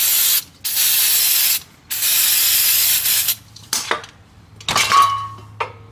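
Brake cleaner is sprayed onto new brake pads from a Holden Captiva LTZ in two long hissing bursts, then shorter sprays, with clicks and metallic rattles of parts being handled close by.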